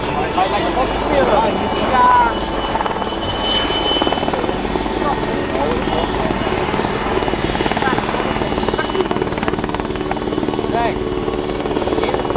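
A Czech Air Force W-3 Sokol helicopter performs at the Sanicole Airshow 2022, its rotor and engine roaring loud and continuous with a pulsing chop, while an announcer talks over the noise.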